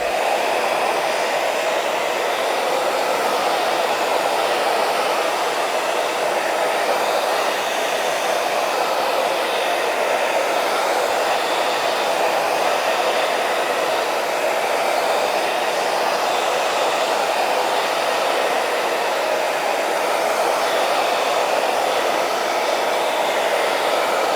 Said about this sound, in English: Okay, so now I'll just use the hairdryer again.